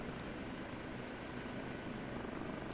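Dense, steady rotor and engine roar of an OH-58D Kiowa Warrior helicopter in the DCS flight simulator game, loud and unbroken throughout, with no other sounds.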